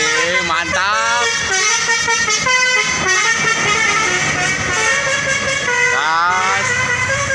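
A bus fitted with a Basuri telolet horn plays a loud, repeated multi-note melody, honking through a continuous run near Al Jabar on the road toward a tunnel. Traffic noise sits underneath.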